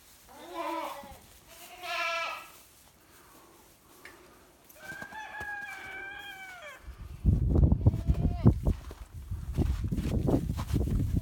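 Several goats bleat nearby, a few drawn-out wavering calls one after another, followed by rustling and shuffling movement noises.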